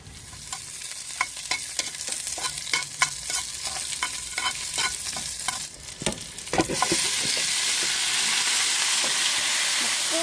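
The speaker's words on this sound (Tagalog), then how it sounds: "Gigisahin ko muna siya dito." Food sautéing in a pan before pressure cooking, a loud steady sizzle with repeated scraping stirs through the first half, then the frying swells into a denser, constant hiss, close up with no voices.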